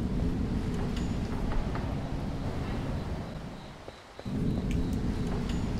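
In the video game Viviette, wind gusts as a low, continuous rushing roar that dips briefly near the end before surging back, without speech.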